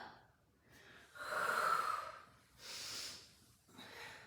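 Steady breathing during a Pilates mat exercise: three or four close, breathy inhales and exhales that swell and fade in turn, with no talking.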